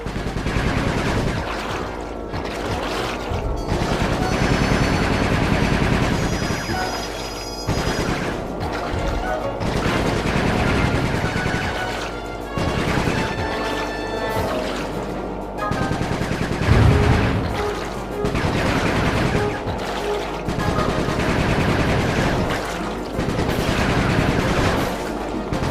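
Gunfire in the game Sly Cooper 3: Honor Among Thieves, with dense rapid bursts and booms repeating steadily over a busy in-game soundtrack, loud throughout.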